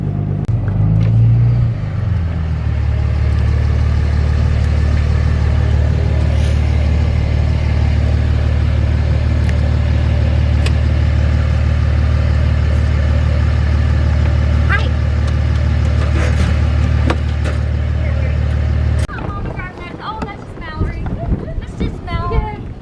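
A pickup truck drives into town with a loud, steady engine rumble that stays constant for most of the run, then drops away near the end as the vehicle slows and other faint sounds come through.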